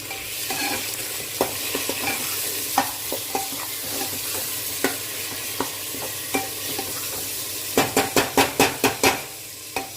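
Chopped tomatoes cooking in a mutton curry pot, steady sizzle broken by repeated spoon scrapes and knocks, with a quick burst of clinks near the end; no talking.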